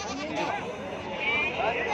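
Young male goat kids bleat at a busy weekly livestock market in Gudur, their cries rising over constant crowd chatter and people talking nearby.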